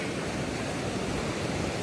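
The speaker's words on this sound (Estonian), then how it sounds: "Täiega mõnusad lained. See on Surfers Paradise on selle koha nimi" Ocean surf rolls in at Surfers Paradise beach on Australia's east coast as a steady, dense wash of breaking waves, loud and continuous with wind-like hiss and no voices.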